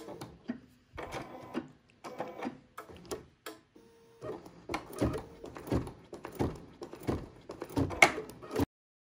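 BERNINA embroidery machine stitching placement lines runs in short bursts of rapid mechanical whirring and thudding, stopping and restarting several times, close and fairly quiet.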